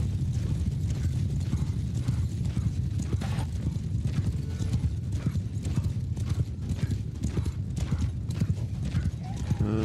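In the Warsails video game, a cavalry charge sends hooves drumming in a dense, continuous clatter, with horses whinnying now and then, loud and close throughout the whole stretch.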